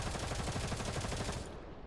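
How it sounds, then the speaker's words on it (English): Intense automatic gunfire in the video game Girls' Frontline 2 rattles in a dense, rapid stream of shots that drops off toward the end. "Intense gunfire interrupts Vector's moping."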